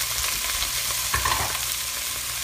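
Parboiled Brussels sprouts hitting a hot pan, a steady broad sizzle and frying hiss throughout with a brief louder stir or clatter near the middle.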